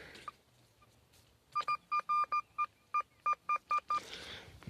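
Metal detector signalling a find at the edge of a field, giving a rapid run of about twelve short, clean electronic beeps at a steady rhythm, close and clear over faint background noise.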